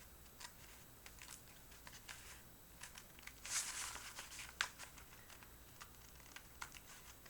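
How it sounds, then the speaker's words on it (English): Quiet, scattered snips and light paper crinkles come in an uneven rhythm, close by, with a brief louder rustle partway through. "I'm just going to use my scissors and just go along"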